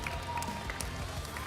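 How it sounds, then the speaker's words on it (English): Audience applause for ONIC Philippines at an MPL Philippines Season 12 esports match, a steady crowd clapping wash that holds evenly throughout with scattered louder claps and faint cheering. "let's give a round of applause to ONIC Philippines."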